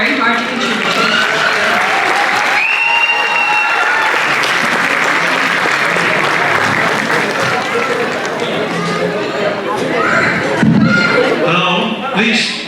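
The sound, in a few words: audience applause for performing group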